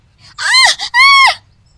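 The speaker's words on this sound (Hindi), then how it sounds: "उसके पल्लू में आग लग जाती है और वो जोर जोर से चिल्लाने लगती है" A woman screams loudly in a kitchen as her sari catches fire at the stove, two long anguished wails with a brief break between them, close and alone.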